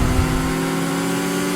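A steady high-pitched electric motor whine with a rising mechanical hum from a 2022 Hummer EV truck, loud and continuous, like a powerful vehicle revving without a combustion rumble.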